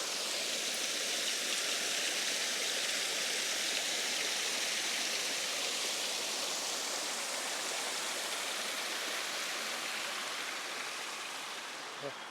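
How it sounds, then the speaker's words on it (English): Creek water rushing over rocks in a bush valley campground, a steady broadband wash that holds constant throughout and fades slightly at the end, no talking. "But I'll shut up in a minute because the water is beautiful running down through this."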